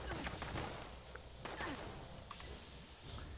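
Rapid gunfire from Fallout 76 gameplay, a dense run of sharp shots and bursts at steady close range, with faint game sounds beneath and no talk.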